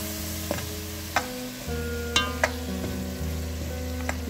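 Fesenjan stew ingredients with saffron sautéing in a pot, a continuous sizzle with a few sharp clinks of a stirring spoon, close and alone.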